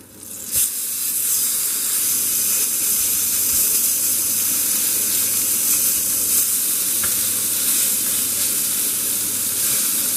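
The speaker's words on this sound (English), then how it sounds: "I just want to fry this up on high heat" Liver searing on high heat in a pan, a loud, steady sizzle with bright hiss running continuously and close throughout, with a faint clink near the start.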